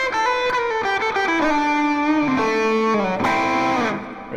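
A melodic electric guitar lick with a jazzy, pentatonic feel, played alone with an effects-coloured tone. The single notes glide and bend into a sustained phrase that fades at the end.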